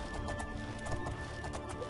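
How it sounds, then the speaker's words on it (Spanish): Horse hooves clip-clop steadily in the video game The Elder Scrolls IV: Oblivion, a quick repeated trot with no talking over it. "Y finalmente tenemos un caballo."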